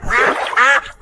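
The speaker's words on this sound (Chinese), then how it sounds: "赶鸭子下田！" Ducks being driven into a flooded crayfish and rice field let out two or three loud, close, nasal quacks in quick succession.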